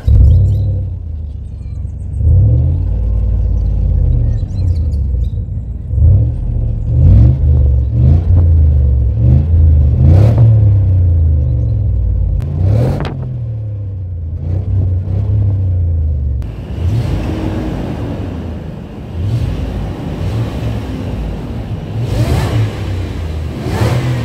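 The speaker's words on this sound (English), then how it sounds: "whenever you get bored, you can just wind your windows down and you have that lovely exhaust note to listen to" A supercharged 4.2-liter V8 in a 2010 Range Rover Sport HSE revs repeatedly, its deep exhaust rumble rising and falling in several throttle blips before a longer, harder rev near the end, loud and close with no talk.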